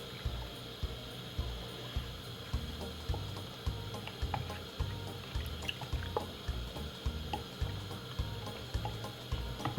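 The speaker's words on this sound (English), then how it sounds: "get a wooden spoon and simply give it a mix" A wooden spoon stirs milk and cornmeal in a jug for Jamaican porridge, producing a steady rhythm of wet, sloshing knocks repeating about twice a second, close up and moderately quiet.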